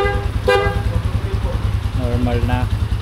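A Rusi RFI 175 motorcycle horn toots in a couple of short, bright blasts over a close, rhythmic idling engine, with a voice briefly audible in between.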